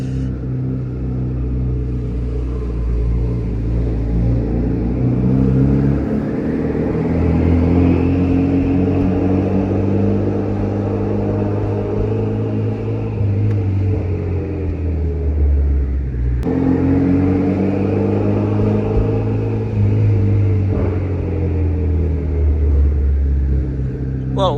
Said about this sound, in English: You guys hear that turbo spool?